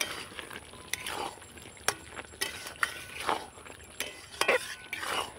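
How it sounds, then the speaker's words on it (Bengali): A spatula stirs boiled amla coated with red chilli powder and spices in a pan, making intermittent light scrapes and taps against the metal at an uneven rhythm, close and fairly quiet. "এই দেখুন খুন্তি দিয়ে আমি এই করছি"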